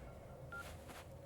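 An incoming phone call in a Hindi-dubbed action film scene, heard as a brief, faint electronic telephone tone over a low background hum, with no speech.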